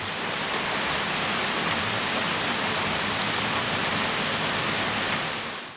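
Steady rain falls outside, a dense, even hiss of drops that holds for the whole stretch with no voices and only a slight easing at the very end.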